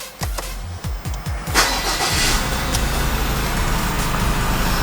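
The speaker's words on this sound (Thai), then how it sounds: "เดี๋ยวนี้สิมาสตาร์ทเครื่องยนต์ให้ฟังกันนะคะ" A 2020 Mazda BT-50 Pro pickup truck engine cranks in several quick bursts, catches, and settles into a loud, steady idle close by, with no voices.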